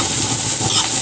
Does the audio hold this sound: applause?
no